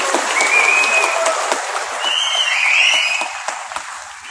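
A large outdoor crowd at a Kodava event applauds a political leader, with steady, loud clapping throughout and a few faint whistles heard over it.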